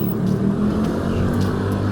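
A motor vehicle engine running nearby, a loud, steady low hum and rumble that holds without pause.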